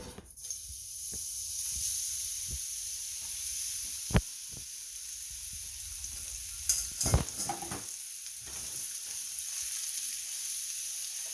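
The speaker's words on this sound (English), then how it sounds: "And then we're just going to throw our shrimp in the pan." Shrimp searing in a hot pan for venison enchiladas, a steady close hiss and sizzle throughout, broken by a few sharp clacks and scrapes of a utensil against the pan.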